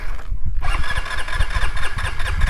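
A Hero Xoom 125 scooter engine cranks repeatedly without catching, a close, continuous rough mechanical churning with a brief quiet gap near the start.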